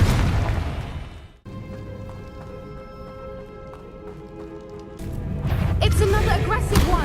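A Confringo blast spell fires in Hogwarts Legacy: a sudden broad burst of blast noise erupts late in the clip over a steady bed of game music, following a dense, noisy opening.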